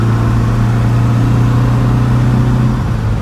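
Steady mid-pitched drone of a 1971 Lancia Fulvia engine cruising in fifth gear, with cabin and wind noise from an open window; constant and close, no speech.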